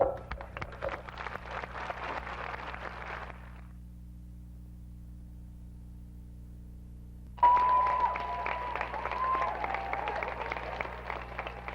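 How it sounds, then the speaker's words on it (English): A crowd of well-wishers applauds and cheers at a homecoming welcome, a dense wash of clapping that cuts off abruptly, falls silent for several seconds, then bursts back in louder under a steady low hum. "the cheering crowds of boisterous well-wishers"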